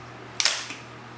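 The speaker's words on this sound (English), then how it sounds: "what the fast shutter does, it opens and closes so quickly that it freezes the action" A camera shutter fires once at 1/250th of a second, giving a sharp, close mechanical click with a fainter second click just after, set against a quiet room.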